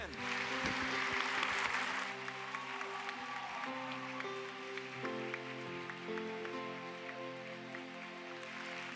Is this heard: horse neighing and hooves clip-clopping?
no